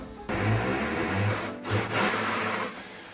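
An old electric drill, about 30 years old, grinds steadily through a plate during a toilet renovation in an 1850 tower. The drilling is loud and continuous, with a brief dip partway through.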